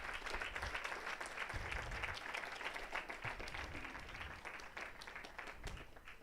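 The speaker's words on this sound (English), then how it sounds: "let's give a big round of applause." An audience at a birthday celebration at a Sathya Sai center, gathered before an altar, gives a round of applause: steady, fairly quiet clapping from a room full of people that gradually thins toward the end.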